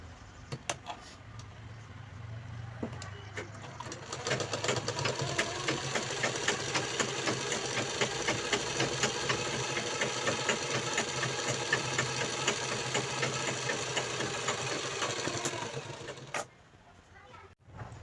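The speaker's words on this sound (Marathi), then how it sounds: "हे बघा मी इथून एक शिलाई मारून घेतलेली आहे" A sewing machine stitching a small piece of cloth, starting after a few quiet seconds and then running as a steady, fast mechanical chatter for about twelve seconds before stopping.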